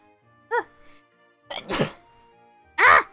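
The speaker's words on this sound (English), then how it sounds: "I feel a sneeze." A person's sneeze, in three separate bursts: a short, thin catch, then a louder explosive sneeze, then a final strong loud one, close to the mic with near silence between them.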